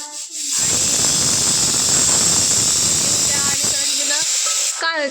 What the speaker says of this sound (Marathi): तर आता कुकरच्या शिट्ट्या व्हायला लागले त्या